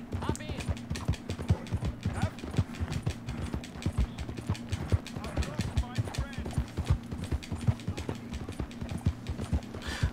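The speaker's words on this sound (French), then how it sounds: "Mon cheval est là" Horse hooves clip-clop in Red Dead Redemption 2, a steady trotting rhythm of sharp, close hoofbeats running through the whole stretch, with a low rumble underneath and occasional speech over it.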